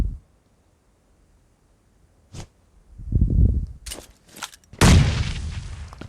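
Explosive blasts and bursts of gunfire from the battle royale game PUBG Mobile on the Erangel map, including a thrown grenade: a short sharp crack, then heavy booming bursts and a loud sustained blast rumbling away, all without talk.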